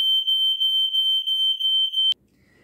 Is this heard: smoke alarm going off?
yes